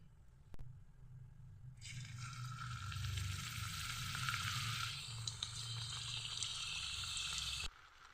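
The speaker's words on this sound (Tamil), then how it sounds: "எண்ணெய் சூடானதும் சமோசாவை பொரித்து எடுத்துடலாம்." Samosas made with tapioca drop into hot oil in a kadai, bursting into a loud, steady bubbling sizzle that holds for several seconds before cutting off abruptly; no speech.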